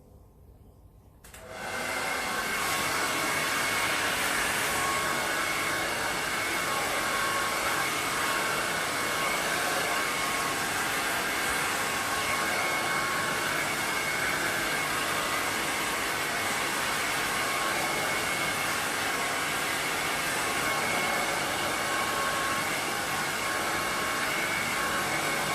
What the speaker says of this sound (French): Donc là, je vais sécher avec vous directement.